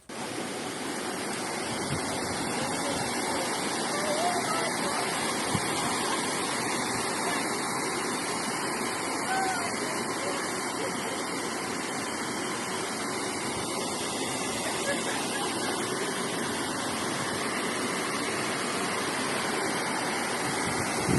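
Floodwater rushes steadily through city streets in Odesa after a heavy downpour, a loud, continuous roar of running water that holds unbroken throughout, with no voices heard.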